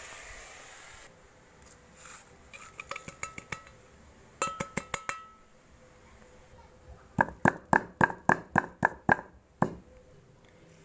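Spice mixture for chicken dak bungalow being ground into a paste in a home kitchen, heard as bursts of sharp clinking and knocking, a quick cluster of hits followed by a louder run of about ten evenly spaced strikes.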